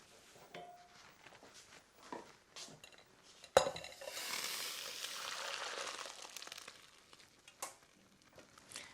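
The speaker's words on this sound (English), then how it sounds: "it's ready to remove from the heat and drain." Boiled Tilda basmati rice is drained in a kitchen: a metallic clank of the pot, then a soft steady rush of water pouring for several seconds, faint and fairly close, with light clinks around it.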